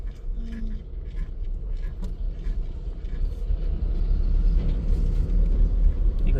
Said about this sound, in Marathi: अहो टाटाचा ट्रक आहे बघ नवीन मधला भारी आहे ना